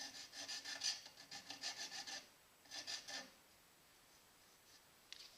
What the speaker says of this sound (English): we're going to use a file to deburr it